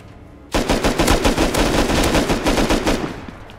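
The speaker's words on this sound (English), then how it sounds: "We have someone shooting at me." Automatic gunfire erupts in the video game Rust, a loud, rapid burst of close shots that starts abruptly and keeps up for about three seconds before tailing off; no one speaks.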